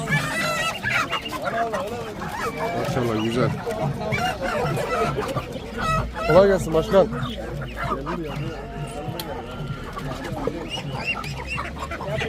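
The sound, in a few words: chickens clucking and rooster at Adana bird market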